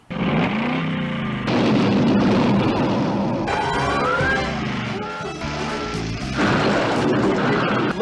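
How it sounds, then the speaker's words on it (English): A cartoon explosion from a G.I. Joe episode, part of The Cobra Strikes, is a loud blast followed by layered booms and crashes mixed with a dramatic music score. "Also, Duke, I think they're all dead judging from that explosion."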